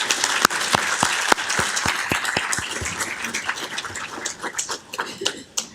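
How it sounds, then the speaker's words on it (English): A round of applause rings out at a city council meeting, with a few sharp, close claps cutting through a broader spread of clapping that gradually tapers off. "If you can please help me and give them a round of applause to everybody here."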